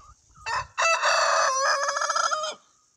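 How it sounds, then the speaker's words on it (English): A rooster crows once nearby in a loud, full cock-a-doodle-doo lasting about two seconds, preceded by a short rising call, in an otherwise quiet yard. "There's the rooster."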